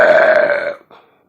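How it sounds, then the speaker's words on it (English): One loud, drawn-out burp, deep and resonant, lasting under a second before fading into a short trailing grunt. "She burped so loud, it sounded like a tugboat."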